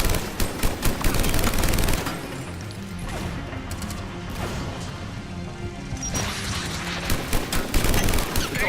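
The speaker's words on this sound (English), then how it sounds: "This gun needs to, like, rev up for a few shots, and then it starts firing like crazy." Rapid-fire gun in Mass Effect 3 spinning up with a few spaced shots, then breaking into a dense, loud stream of automatic fire that eases mid-burst and surges again amid crashing impacts.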